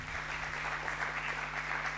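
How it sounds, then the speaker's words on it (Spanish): Audience applause at a university agricultural and environmental science conference, even clapping from the room, moderately loud over a low steady hum. "un aplauso de nuevo para los chicos, por favor"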